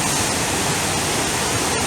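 The Athirapally waterfall roars loud and close, a constant dense rush of falling water with no break and no voices.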